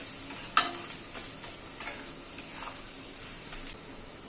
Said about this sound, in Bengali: সব মশলাগুলো দিয়ে আবার একটু নাড়াচাড়া করে নিচ্ছি